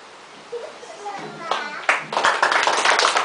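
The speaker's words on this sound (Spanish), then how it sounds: "¡Aplauso!" Guests clapping at a child's family birthday party during a Christmas celebration, starting after a brief spoken bit and swelling into loud, busy applause with children's voices mixed in.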